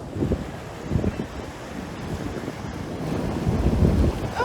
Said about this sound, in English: A big wave just came in. Careful! Wow, it's filling up. It fills up the rock pool.